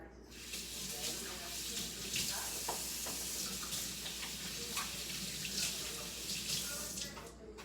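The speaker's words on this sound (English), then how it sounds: "I'm gonna wash my hands." A kitchen tap runs steadily into a sink as hands are washed under it, a close, continuous splashing rush with small shifts in the flow.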